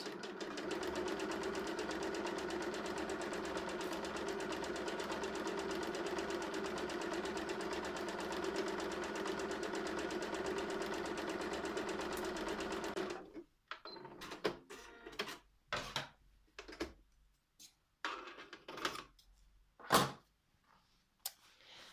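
A sewing machine stitches bias tape onto a garment hem, running in a steady continuous whir for about thirteen seconds, then stopping, followed by a series of sharp clicks and handling knocks.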